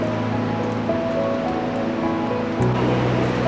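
Iguazu Falls roar as a broad, constant rushing of water, with a faint tonal hum running beneath the continuous wash.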